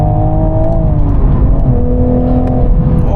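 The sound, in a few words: 2024 Toyota GR Supra manual accelerating in third gear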